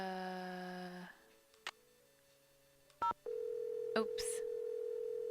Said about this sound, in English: There goes my cell phone